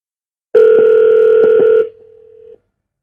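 A telephone call tone plays while waiting for the other person to answer: one steady electronic tone holds loud for about a second and a half with a few clicks, then drops to a quieter continuation before cutting off. No one speaks.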